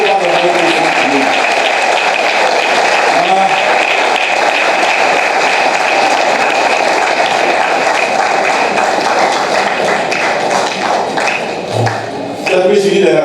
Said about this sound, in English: Let us clap for him until I hand over the microphone to you.